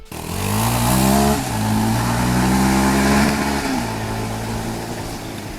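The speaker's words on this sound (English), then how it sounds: "The exhaust note on the KLX230, it's not very loud, it's just your typical dirt bike" A Kawasaki KLX230 dirt bike exhaust note, a steady mid-pitched engine drone with two brief dips as the throttle eases, close and fairly loud throughout.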